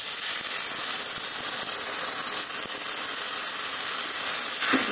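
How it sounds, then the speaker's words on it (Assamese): Hot water poured into a pan of hot cooked spice mixture, giving a steady, loud broadband sizzle and hiss that holds evenly from start to finish, close up and without talk. "আৰু এতিয়া এইখিনি সিজিবৰ কাৰণে মই অকণমান ইয়াত গৰম পানী দিম"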